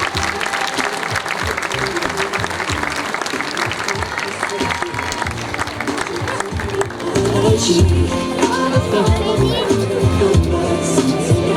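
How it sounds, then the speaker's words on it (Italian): Applause from an audience at an outdoor fashion show in Udine province fills the first half. It then gives way to louder music and crowd noise, with a voice faintly mixed in. "Un grande applauso"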